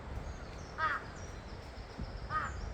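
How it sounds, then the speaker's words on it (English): A crow in South Korea caws twice, each a short, faint call spaced well apart, over a low outdoor rumble, with no voices. "There's a crow."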